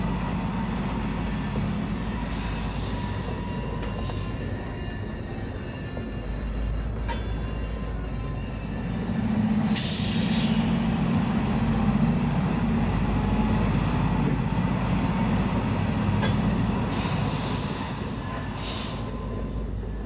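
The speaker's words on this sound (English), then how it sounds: "The cut of empty hoppers, full tank cars, and an empty center beam are pulled onto the main." A freight train of empty hoppers, full tank cars and an empty center beam being pulled onto the main line at night near an ethanol plant, rumbling steadily with low engine drone, occasional metallic squeals and clanks, no talk.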